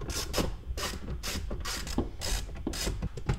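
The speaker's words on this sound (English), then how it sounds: "Next, we have a 10 millimeter socket." A 10 mm socket ratchet clicks in quick repeated strokes, close and alone, as bolts holding the radio are backed out of a Toyota RAV4 dash.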